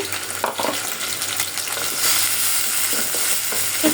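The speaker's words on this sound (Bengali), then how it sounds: "এগুলো আমি শুটকি রান্না করব সাথে কয়টা চিংড়ি মাছ দিয়ে দিলাম এখন দিয়ে দিচ্ছি আমি এগুলো" Dried fish with a few shrimp frying in hot oil in a home kitchen, a steady close sizzle with scattered stirring scrapes throughout, no talk.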